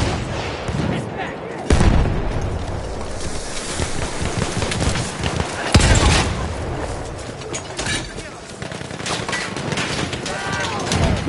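A grenade blast and heavy battlefield gunfire in the Battlefield video game, with loud booming bursts and sustained rumbling combat noise throughout.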